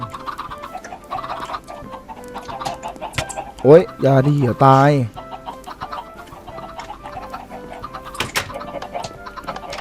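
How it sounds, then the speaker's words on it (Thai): Minecraft chickens in a video game, with a short cluster of loud, close clucks and squawks in the middle, set among quieter background sounds and a person talking. "ไก่มันเยอะมากไก่จะเก็บไข่ไว้ทำอะไรดีเอง"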